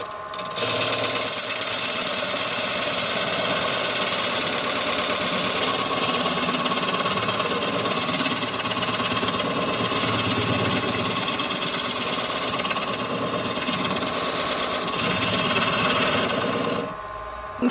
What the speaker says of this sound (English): Then using my skew chisel, I'll cut the dovetail.